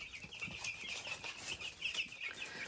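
Incubator-hatched chicks, about two and a half weeks old, peeping in a rapid stream of high chirps with soft shuffling underneath, faint and close.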